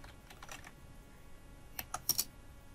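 Quick bursts of clicking on a computer keyboard as a Google search is typed, soft close keystrokes in two short clusters over faint background noise, no voices.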